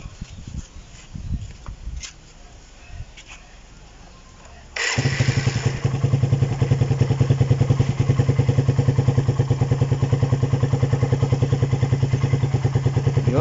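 A Suzuki Raider 150 motorcycle engine is started after a cam chain tensioner reset. Faint clatter comes first, then the engine catches and settles into a loud, steady idle with a rapid, even putter.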